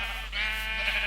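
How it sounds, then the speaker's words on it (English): A Minecraft sheep on a HarvestCraft sheep farm lets out one short, close, nasal bleat. "this is the sheep farm"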